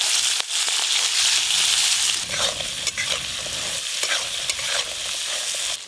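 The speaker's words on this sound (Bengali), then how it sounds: "এবার কাঁকড়াগুলো ভেজে নেবো।" Crabs with salt and turmeric fry in a pan, a close, loud sizzle with scraping stirs and crackling bursts running steadily throughout.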